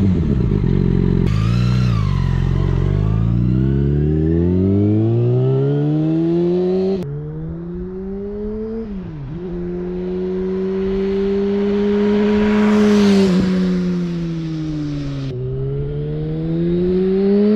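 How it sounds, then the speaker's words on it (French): A motorcycle with a de-baffled exhaust revs up and down repeatedly, rising and falling pitch sweeps, close and loud, with a brief clatter between revs. "est-ce que vous allez mieux entendre le bruit de mon moteur?"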